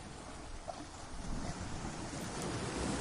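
Huge ocean waves crashing in a horror story, a dense continuous roar of surf and wind that swells slightly louder midway and stays heavy to the end, with no voices.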